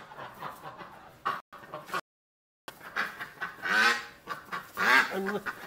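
Ducks at a swamp with water flowing from a pipe, giving repeated honking and clucking calls in short bursts at close range, interrupted by a brief silent gap.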